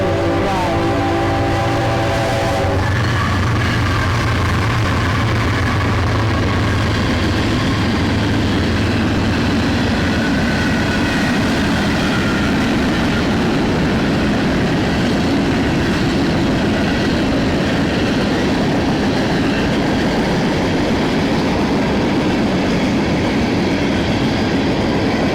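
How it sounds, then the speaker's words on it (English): A freight train passing close by, loud and continuous, with a tonal horn-like hum at the start giving way to a long, rumbling roll of wheels and rattling cars that fills the entire stretch. "Freight train."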